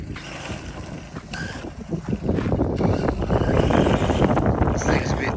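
HSP brushless RC buggy running on dirt, a whirring motor and crunching gravelly rolling that grows louder and closer, mixed with wind buffeting on the microphone.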